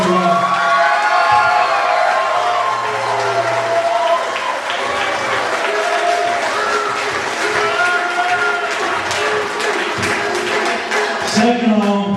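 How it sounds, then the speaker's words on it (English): Applause and cheering from a crowd, with whoops and shouting voices mixed in, running steadily and loudly for about twelve seconds at an event honouring Jimmy Rockwell. "So let's give Jimmy Rockwell a well-deserved round of applause."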